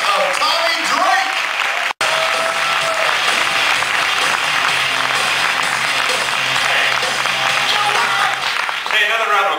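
A live audience at a family comedy and juggling show applauds and cheers to welcome a performer, a dense, loud, continuous roar of clapping and crowd noise lasting several seconds, with voices mixed in.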